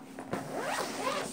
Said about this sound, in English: So let me zip it up.